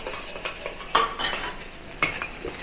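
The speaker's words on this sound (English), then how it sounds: "let's put the egg back to the wok. And also the broccoli stem back to the wok." Egg and broccoli stem are tossed in a hot wok, with a spatula clinking and scraping against the metal in irregular strokes over a soft sizzle.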